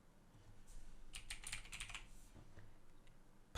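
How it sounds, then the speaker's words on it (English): Fast keystrokes on a computer keyboard, a quick burst of close, crisp clicks in the middle that thins to a few scattered taps, with no talking. "So now we can just type an equal sign"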